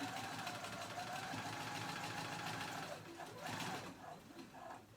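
A sewing machine topstitching a jacket with interfacing, running in a fast steady mechanical whir that stutters and slows near the end, close and continuous.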